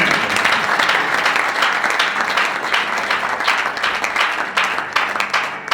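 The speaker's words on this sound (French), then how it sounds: "Can you clap our hands?" A church congregation claps its hands together in steady, sustained applause through a Sunday service, loud and near, with a few faint voices underneath.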